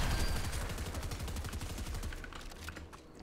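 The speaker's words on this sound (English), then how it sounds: "That guy has a charged shotgun!" Charge shotgun fire in Fortnite, a fast run of sharp cracking bursts that rattle loud and close, then thin out into scattered shots near the end.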